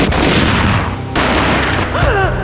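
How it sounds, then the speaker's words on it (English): Gunfire in the Max Payne video game, a sharp boom burst followed by a rumbling tail and a second hit midway, loud and close with no talk. "A gunshot boomed and she fell down in slow motion."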